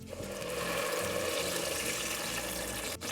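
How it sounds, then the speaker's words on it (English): Green sauce poured into a pot of hot avocado oil for chicken pozole verde, giving a loud, steady sizzling, rushing hiss that stays constant throughout, with a brief dip near the end. "Carefully pour in the green sauce."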